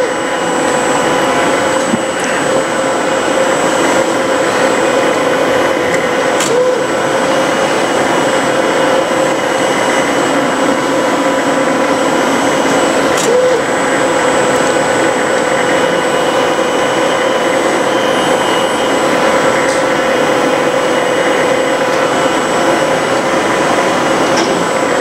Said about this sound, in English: please allow for 1 to 2 minutes for let machine check the nozzle automatically